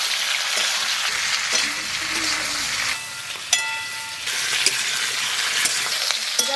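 Duck eggs fry in oil with a loud, steady sizzle and spatter, broken by a couple of brief clinks of a utensil and a short dip in the hiss.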